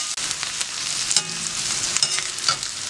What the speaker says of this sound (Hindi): इसलिए हम फ्लेम हाई रख रहे हैं और लगातार इनको पलटते भी रहेंगे।